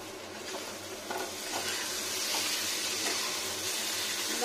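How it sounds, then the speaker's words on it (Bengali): Potatoes and peanuts fry in a pan with a bright, steady sizzle, broken every half second or so by scraping stirs of the spatula, close up and with no talk. "এখানে ফ্রাই করবো আলুটাকে একটু ভালো করে, আর বাদামটাও সুন্দর করে ফ্রাই হয়ে যাবে"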